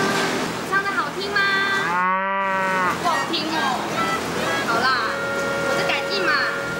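Cattle in a herd give a loud, drawn-out moo near the middle, with people talking over the surrounding sound.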